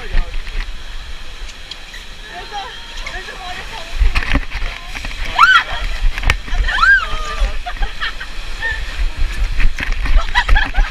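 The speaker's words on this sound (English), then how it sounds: "There's a waterfall." Steady rushing, splashing water from a waterfall at Lagoon amusement park in Utah fills the background while excited voices talk and exclaim over it.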